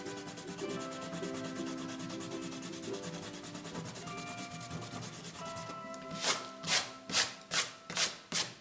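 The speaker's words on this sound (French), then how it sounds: "je vais gommer rapidement les traits" An eraser rubs out pencil lines on paper in quick back-and-forth strokes, faint and close under soft background music, turning into a few louder rhythmic scrubs at the end.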